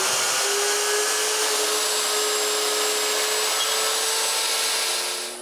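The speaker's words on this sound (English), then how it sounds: "it's time to return to the mortising machine" Mortising machine cutting square holes in wooden lamp parts, a loud steady high-pitched whine of motor and chisel biting wood, continuous and close for the whole stretch, fading slightly at the end.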